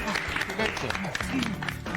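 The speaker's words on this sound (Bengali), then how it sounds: "এই রিকের জন্য জোরে হাততালি সবাই মিলে।" Loud audience applause on a Bengali TV serial set, dense clapping from a group all the way through, with people talking and calling out over it.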